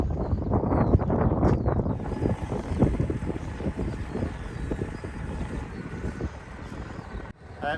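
Gusty wind buffets a microphone in an open farm field during spring barley drilling, a dense low rumble that swells and eases throughout, with faint machinery noise underneath.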